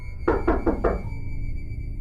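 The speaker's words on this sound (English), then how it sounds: "again, knocking at the front door" Four firm knocks on a front door land in an even, quick rhythm, close and loud, then stop and leave only a low room hum.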